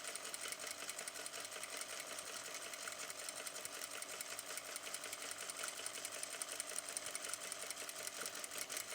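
A sewing machine stitches a seam finished with a bar tack, a fast, steady mechanical whirr with a rapid needle rattle, quiet and continuous for several seconds with no talk.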